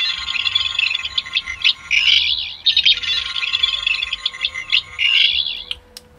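A Fourteenth Doctor sonic screwdriver toy plays its electronic sound effect: a warbling, high-pitched trilling whine that pulses in bursts for several seconds, ending with a click.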